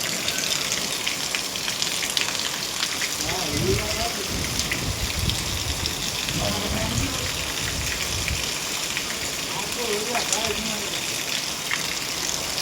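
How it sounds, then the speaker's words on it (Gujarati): Steady rain pours down in a sudden downpour, a dense continuous hiss of drops on surfaces with trickling water, while someone talks intermittently underneath. "ભાઈ વરસાદ ચાલુ થઈ ગયો છે"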